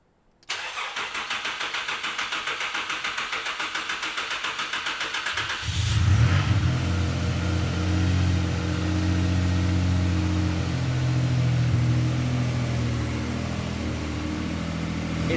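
Turbocharged VQ-engined Nissan Bluebird with a big turbo and 3.5-inch stainless steel exhaust, cranking and starting up, then settling into a loud, deep, steady idle with a slight blip of revs, close by and with no talking.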